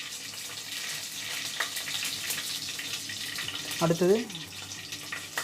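Steady hiss of ingredients frying in hot oil in a home kitchen pan, a constant sizzle running under a brief spoken word and a short burst of clatter.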